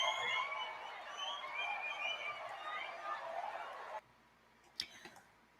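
Audience applause during an informal talk, a dense, moderately distant clatter of clapping lasting about four seconds before cutting off to near silence with a couple of faint knocks.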